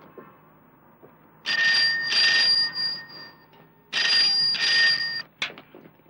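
A telephone bell rings loudly in two long trilling bursts separated by a pause, then a short clipped ring, in a quiet room.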